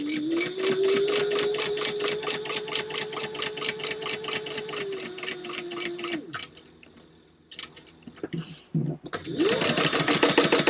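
Sewing machine stitching fabric in quick, even bursts of needle clatter, pausing midway with a brief whir before resuming, close and loud with quiet talk in between.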